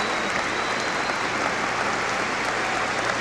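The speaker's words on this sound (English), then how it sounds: "now they stand and applaud emphatically in Philadelphia for Miss Peggy Fleming" Audience in Philadelphia stands and applauds emphatically after a Peggy Fleming figure skating performance, a dense, steady wash of clapping filling the arena without pause.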